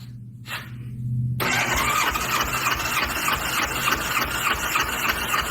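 A 1986 Honda Goldwing engine cranks with all spark plugs out and throttle held wide open for a compression test: a starter hum, then a sudden loud, fast, even cranking churn that carries on steadily and close.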